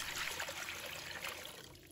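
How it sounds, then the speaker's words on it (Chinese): Water is poured into a cooking pot to boil eggs, a steady close splashing trickle that runs unbroken for about two seconds and tapers slightly, with no talking. "接下来我们起锅烧水煮鸡蛋"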